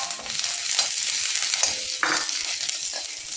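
Curry leaves sizzle and crackle in hot oil in a pan while being stirred, with scraping strokes from the spoon and a steady frying hiss close to the microphone.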